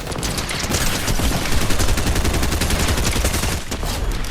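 Loud, rapid automatic gunfire from a video game, a dense rattle of shots running continuously for several seconds with no voices.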